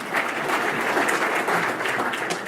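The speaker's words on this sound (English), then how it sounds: "a round of applause for John" Steady audience applause at a community college best practices conference fills the room, dense and even from start to finish with no break.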